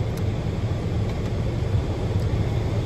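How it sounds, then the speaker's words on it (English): A car's defroster runs as a steady, loud broadband whoosh of blowing air with a low rumble underneath, constant and unbroken throughout. "what you hear in the background is my defroster"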